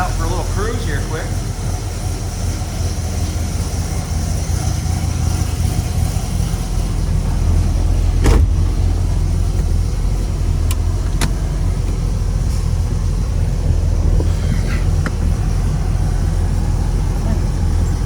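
A 1970 Pontiac GTO 455 Ram Air with a 4-speed cruises along, its engine a steady, close, low rumbling drone that holds through the whole stretch, with some talk mixed in.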